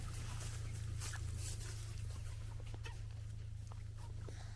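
Chickens clucking and scratching about, with scattered short calls over a steady low mechanical hum.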